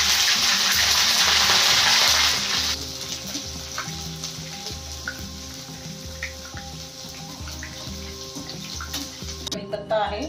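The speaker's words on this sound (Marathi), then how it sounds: "कट केलेली हिरवी मिरची आहे, आपण कट केलेली आहे, ती पण फ्राय करून घ्यायची" Cut green chillies frying in hot oil in a pan for crispy potato chivda, a loud steady sizzle in the first few seconds that eases to a softer, crackling fry with light stirring, under background music.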